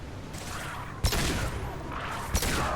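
Gunfire in the video game Mass Effect 2 lands as two sharp, heavy shots about a second apart over a dense, rumbling combat soundscape.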